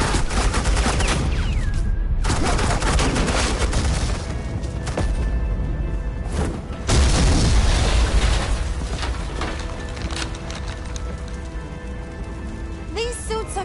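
Sustained suppressing gunfire in the video game Batman: The Enemy Within, a loud continuous barrage of shots and impacts that swells and fades with a dense action soundtrack, with a voice speaking over it.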